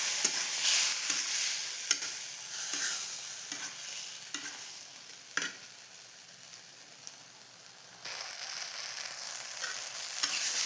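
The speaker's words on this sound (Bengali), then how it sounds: "পরিমাণ মতো হলুদ দিয়ে দেবো। এবার এটা ভালো করে কষে নেব।" Spices with turmeric being stir-fried in a pan for a small-fish sour curry, a steady close sizzle with repeated scraping stirs of a spatula, fairly loud and continuous, with no talking.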